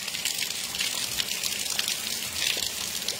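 Rain falling in Orós, Ceará, a steady close wash of water with gushing, trickling runoff and scattered drips, continuous and fairly loud, no talking.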